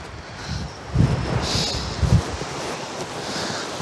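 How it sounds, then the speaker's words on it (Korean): Strong ocean waves break on Songjeong beach, a rushing surf wash with a couple of heavier crashing surges, close and fairly loud, with wind noise on the microphone. "와, 나 진짜 파도가 장난이 아니다."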